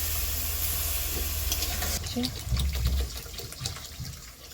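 Water pours into a pan of frying masala for a Bengali chinapunti fish curry, a steady sizzle and stirring shifting to bubbling hiss partway through, with a voice talking over it.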